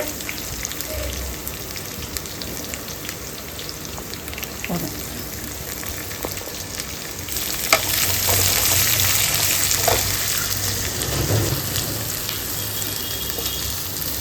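Chopped onions frying in hot oil for a green turkey berry curry, a steady close sizzle throughout that grows louder and denser about halfway through, with occasional stirring knocks and no talking.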